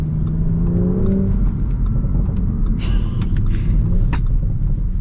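A 2023 Audi S4 downshifts while driving. Its engine rumbles steadily under road noise, and a few short crackling gargles pop from the exhaust.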